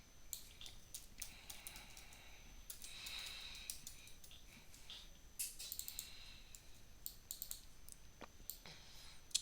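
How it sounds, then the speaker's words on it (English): Computer keyboard typing while a password is entered during a Django API setup, heard as quiet irregular clicks and taps in short bursts against a faint background hiss, with no talking. "Then I'm going to be typing the current password."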